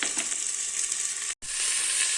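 Chopped vegetables for wheat rava kitchidi sizzle and crackle steadily in a hot pan, with a brief pause as something is stirred or added.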